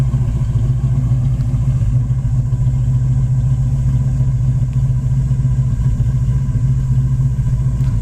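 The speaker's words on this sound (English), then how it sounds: "Dual exhaust, brand new. Sounds great." A gold 1979 Pontiac Trans Am idles through a brand-new dual exhaust, giving a loud, steady, deep rumble that holds evenly throughout with no revving or talk.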